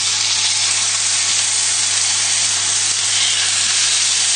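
Lamb steaks sizzle in a very hot, lightly oiled pan, a steady bright hiss holding at an even level throughout with a faint low hum beneath and no voices.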